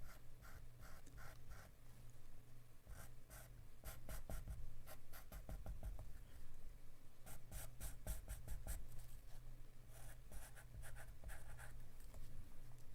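Pastel pencil drawing on paper, adding highlights: faint, close scratchy strokes in quick bursts and longer rubbing passes, soft throughout with a low background hum and no talking.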